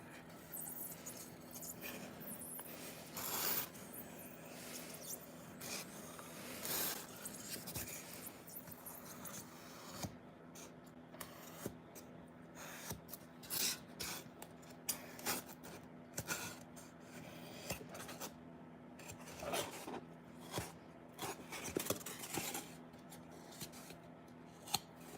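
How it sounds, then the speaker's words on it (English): A pen is dragged through scored lines in XPS foam, giving repeated faint scratching and rasping strokes in short irregular bursts against a quiet background. "they took a pen and they went click and they dragged it through all the lines they just made"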